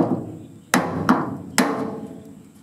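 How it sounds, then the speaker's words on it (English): Three sharp metallic hammer strikes on a chisel pressed against sheet metal to pop off a pop rivet, sounding close and loud, with a short ringing decay after each blow. "Pop that rivet off."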